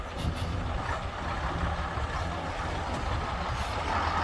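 A coach edges slowly through a tight gap at a Blackpool coach event, its engine rumbling steadily and close, with faint higher beeps and air-brake hiss mixed into the continuous low drone.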